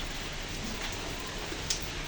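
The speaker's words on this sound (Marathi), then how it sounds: "पाऊस पाऊस पाऊस एवढा पाऊस कधी उघडणारे माहीत नाही" Heavy rain pours down in a steady, even wash of drops, fairly quiet and unbroken with no other sounds standing out.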